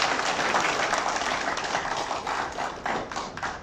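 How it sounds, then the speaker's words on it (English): Steady applause from a crowd, many hands clapping together throughout, fairly close and even, with no voices. "Let's give PSIM and Engineer Roel Sumido a big round of applause."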